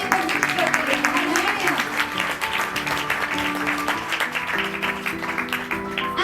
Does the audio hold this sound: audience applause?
yes